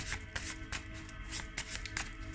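Oracle cards being shuffled by hand close up, a quick series of soft papery riffles and slaps in an uneven rhythm, quiet and with no talking.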